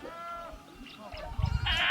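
Goats on a small farm bleat in short wavering calls, one near and loud at the end, with someone talking in between and low rumbling handling noise.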